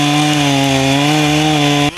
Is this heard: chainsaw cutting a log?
yes